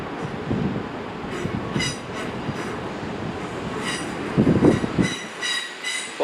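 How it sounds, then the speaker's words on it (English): A Great Western Railway train moves through Bristol Temple Meads station, a steady rumble of wheels and carriages with squealing wheel tones and a louder surge near the end, close by with no talk. "36 Great Western Railway service to Avonmouth."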